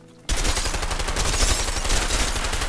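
Sustained rapid gunshots in the video game A Way Out burst in abruptly from near silence and keep rattling in a loud, dense automatic-style string throughout.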